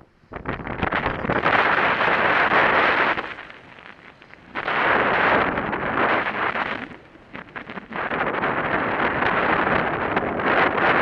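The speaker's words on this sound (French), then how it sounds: "Il y a ces 20 nœuds de vent minimum là." Strong wind of at least 20 knots buffets the microphone aboard a sailing boat in heavy roaring gusts, easing briefly twice before surging back, loud and close throughout.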